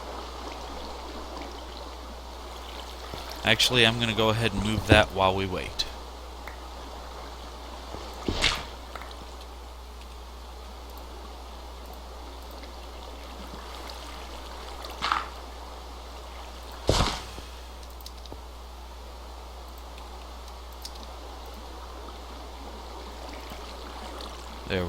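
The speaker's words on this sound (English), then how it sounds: "our barrels are filling up with water" Water filling barrels in the Minecraft modpack Agrarian Skies 2: a faint, steady trickle runs throughout, broken by a short burst of clatter and a few brief clicks, while someone talks over it.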